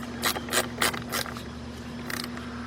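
An 8mm socket ratchet tightens the negative battery terminal on a 2003 Lincoln Navigator 5.4, giving several quick, close clicking bursts, a pause, then one more brief burst over a faint steady hum.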